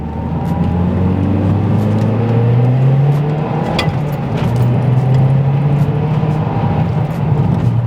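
A MazdaSpeed 3 accelerates hard, heard from inside the car, with a loud, steady engine drone whose pitch climbs through the rev range, dips briefly at a gear change, then rises again.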